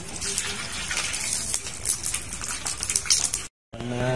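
Food sizzles and crackles in a small amount of hot oil in a pan while vegetarian Thai-style fermented paste is cooked. The sound is a continuous close hiss, broken by a brief silence near the end.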